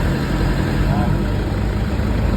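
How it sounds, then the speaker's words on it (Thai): A pickup truck engine idles at a steady low rumble, with a voice talking over it. "รอบเครื่องยนต์เดินนิ่งอ่ะปล่อยคันเร่ง"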